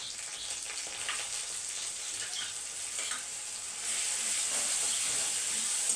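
Onion masala frying in a pan as brinjal goes in, a continuous hissy sizzle that grows louder partway through, with no talking.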